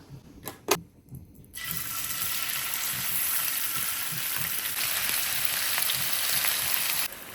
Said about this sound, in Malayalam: ഇനി ഇതേ ഫ്രൈ പാനിൽ തന്നെ 1 ടേബിൾ സ്പൂൺ ഓയിൽ ഒഴിച്ച് നമുക്ക് ചിക്കനും ഫ്രൈ ചെയ്തെടുക്കാം